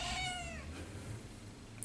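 A domestic cat lets out one drawn-out meow right at the start, close and clear, before it fades into quiet room noise.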